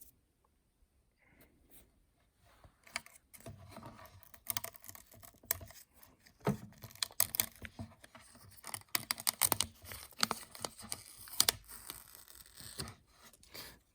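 Tint film peeled from a Hyundai Sonata foglight, a run of close, crackly tearing and crinkling bursts with sharp irregular snaps, starting quietly and growing busier toward the end, with no talk.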